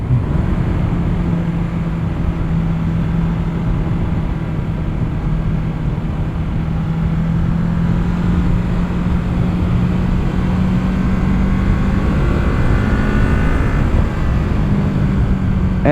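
A 2021 Kawasaki Z650 motorcycle cruising on an open road, its steady engine drone continuous and loud with heavy wind rush, holding a near-constant pitch throughout with no talking.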